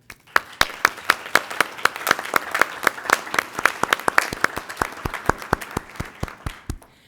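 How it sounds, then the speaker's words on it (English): Applause at a school board meeting for a team of professionals, steady claps from a modest group with a few sharp, close hand claps standing out, fading near the end. "I would like to give them applause because they did a fabulous job"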